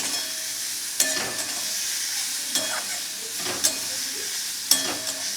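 Radish chechki fries gently in a pan under a soft, constant sizzle, and a spatula scrapes and stirs it in four or five distinct strokes spaced a second or so apart.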